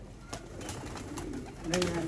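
Champion shermila breeder pigeons coo softly nearby in a short burst over a low background hum.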